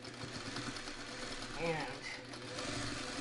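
A sewing machine stitching two fabric pieces together with a quarter-inch seam, its motor whirring steadily under a person talking, with a short louder surge midway.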